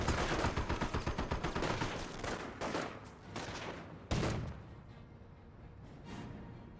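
Rapid rifle and machine-gun fire with a heavy Panzerfaust blast in a Company of Heroes 1 battle, the shots crackling in dense overlapping bursts before one sharp loud impact and a fading tail of scattered reports.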